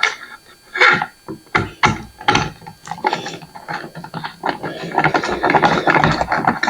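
A ratchet driver bit tightens the bolts on an UltraCarbon VOC enclosure, giving rapid clicking pawl bursts in quick repeated strokes, close and loud, with no talking.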